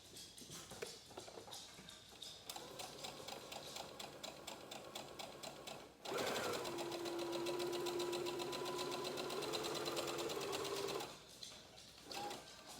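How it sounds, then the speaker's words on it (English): A sewing machine stitches a fabric triangle in a steady, close mechanical rattle, pausing briefly and then running loud and continuous for about five seconds with a sustained whine before stopping. "And we'll sew this too."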